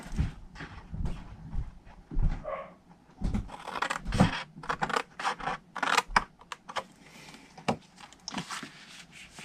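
Scissors snip repeatedly through cardstock while a triangle box is made for a Stampin' Up! papercraft project, with close, crisp cuts and paper rustling arriving in irregular bursts.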